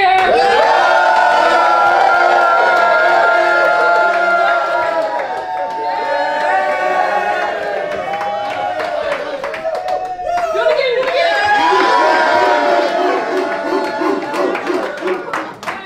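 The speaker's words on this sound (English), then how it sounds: "Everybody cheer!" A crowd cheers and claps at a hometown celebration for an NBA lottery pick, loud and sustained, with shouts, laughter and talking mixed in throughout.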